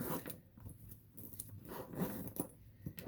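Zipper on a Coach Sabrina handbag pulled in several short rasping strokes, close and clear, with small pauses between pulls and no talking.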